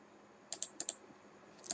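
Several sharp, close clicks of keys on a computer keyboard, a quick pair, another pair, then one more after a pause, in a quiet room.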